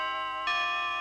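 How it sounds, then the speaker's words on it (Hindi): A cartoon school bell sounds a bright, sustained electric ring. It starts moderately and grows louder partway through, then holds steady to the end, with no voices over it. "फिलहाल तो घंटी बज गई।"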